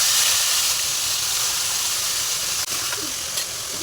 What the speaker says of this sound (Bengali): এবার আমরা এর মধ্যে ঢেলে দিচ্ছি মশলাগুলো।